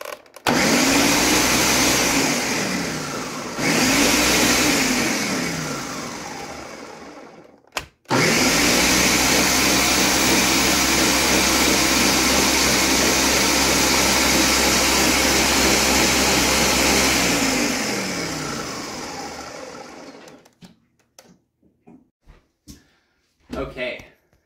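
A blender purees pressure-cooked hot peppers into liquid, whirring loudly in two short bursts, then one long steady run, before stopping with a few brief pulses at the end.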